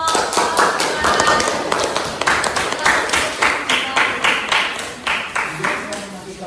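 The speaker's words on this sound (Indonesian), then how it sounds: "tepuk tangan untuk" Classroom audience applauding after a group presentation, loud, close rhythmic clapping from a small group that continues steadily throughout.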